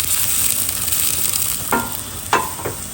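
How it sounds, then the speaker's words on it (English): Six or seven cloves of chopped garlic frying in hot oil for dal makhani, a steady bright sizzle with a few louder scraping stirs near the end, no voices. "Added about 6 to 7 chopped garlic. Let's cook them"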